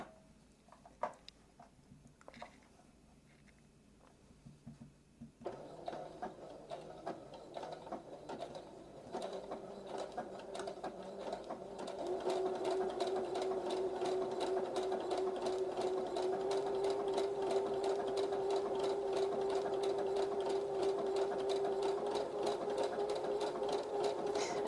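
Sewing machine stitching a blanket stitch along the edge of a homespun rag quilt, running in steady mechanical bursts after a few quiet clicks, then settling into a continuous close whir with a clear motor hum.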